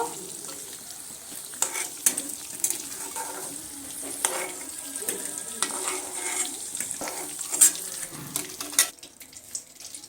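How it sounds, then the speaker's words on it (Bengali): Boiled eggs frying in oil for egg biryani, giving a steady, moderately loud sizzle with intermittent stirring clatter and scraping, with no talking. "ডিমগুলো আমার এখানে ভাজা হয়ে গেছে এবার আমি তেল থেকে তুলে নেব"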